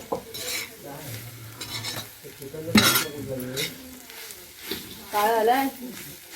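Young jackfruit curry sautéed and stirred in a pot over a wood-fired stove, with close scraping and clattering of a utensil against the pan over a light sizzle, while a voice talks intermittently.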